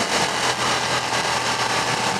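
A 2015 Ducati Diavel motorcycle being ridden fast through the countryside, its engine a loud, continuous drone mixed with rushing wind noise, steady throughout with no voices.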